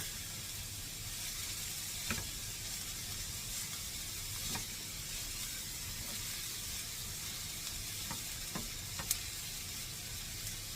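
Already-cooked food is stirred around a small, crowded pan, giving a constant hissing sizzle with a few sharp scraping clicks along the way and no voices.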